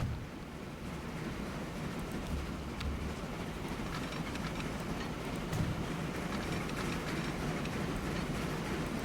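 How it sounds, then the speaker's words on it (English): Fast trains rush past in the railway video game Transport Fever 2, giving a broad, steady rumble with a faint clatter on top that stays loud and continuous throughout, with no voices. "Uh-oh, I hear fast trains"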